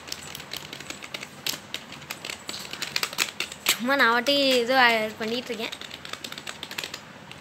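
Keys clatter steadily on an external computer keyboard, a dense run of quick clicks that continues under someone talking close by.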